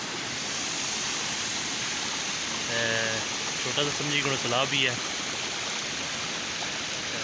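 Fast-flowing rainwater rushes past steadily after a heavy downpour, a loud, broadband wash throughout, with someone speaking briefly over it midway.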